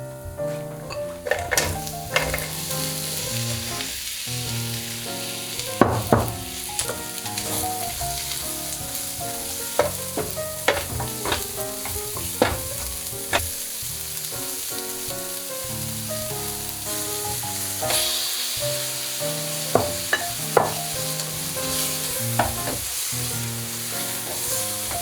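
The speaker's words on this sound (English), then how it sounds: "Just put a little bit more oil first, and then throw the veggies in." Vegetables fry in oil in a pan for fried rice, a continuous loud sizzle with repeated clanks and scrapes of a utensil against the pan throughout, close up and with no talking.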